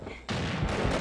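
Sniper rifle fire in the online shooter game Combat Arms: a sharp report bursts in abruptly and rings out loud and sustained, with a second blast swelling near the end.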